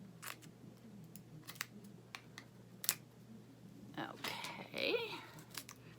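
Scissors or a blade cut into cosmetic product packaging, Milani makeup, with soft clicks and a brief crinkly snipping burst midway, close and quiet, while someone speaks briefly.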